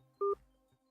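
A single short telephone keypad tone sounds as 1 is pressed to accept an incoming call, a clean two-note beep lasting a fraction of a second against near silence.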